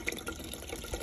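Raspberry White Claw glugs steadily from a can into the coolant reservoir of a 1985 Volkswagen Vanagon, a short continuous liquid pour close up.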